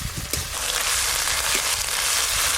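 Onion, ginger and garlic paste frying in hot oil with a steady, dense sizzle and crackle throughout, close up and fairly loud, with occasional soft pops and no talking.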